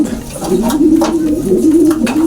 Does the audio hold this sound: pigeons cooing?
yes